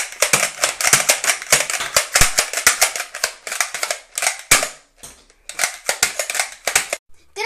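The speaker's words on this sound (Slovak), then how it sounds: "A teraz vám idem ukázať rýchlu streľbu." Six-shot toy cap gun fired in quick succession, loud sharp cracks in dense bursts separated by brief pauses, close and alone without talk.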